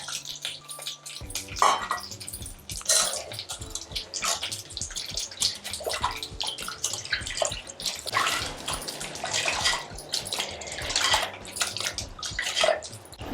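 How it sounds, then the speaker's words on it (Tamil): Tamarind is dissolved in water in a kitchen while making Mysore rasam, with steady splashing and trickling water, soft clinking of a vessel and intermittent sloshing as the pulp is squeezed. "இப்போ புளியை கரைச்சிடலாம்."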